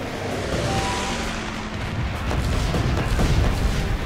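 Gunfire and explosions in the video game Guns Up!, a dense continuous rumble of booms and shots with heavy low-end, loud and sustained with no talk.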